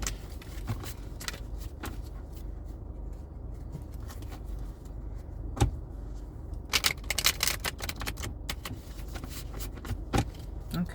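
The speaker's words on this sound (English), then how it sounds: "So I'm gonna pull some cards here. Just shuffle them 3 times." Tarot cards are handled and shuffled in bursts of crisp riffling and tapping clicks, close by, over a low rumbling background.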